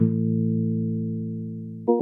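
Clean synth pattern from a Vongon Polyphrase paired with a Syntakt: a steady sustained low harmonic tone held for nearly two seconds, then a brief higher note change at the end, with no talking.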